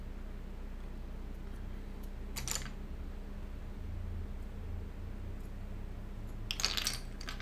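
SA-profile Nautilus keycaps, sculpted plastic caps, handled during an unboxing, making two brief light plastic clicks a few seconds apart against a quiet room background.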